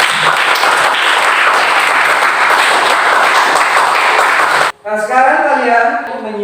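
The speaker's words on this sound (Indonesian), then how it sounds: "Tepuk tangan untuk kita semua." A grade XI high school civics class applauds in a classroom: loud, steady clapping from many hands for several seconds, stopping abruptly before a voice speaks.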